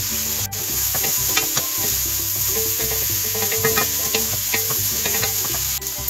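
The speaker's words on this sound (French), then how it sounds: "on va laisser cuire pendant 5 minutes à feu moyen" Ratatouille vegetables sizzle steadily in a pan over medium heat, a dense close frying hiss with scattered pops and the occasional clink of a utensil, continuous throughout with no voices.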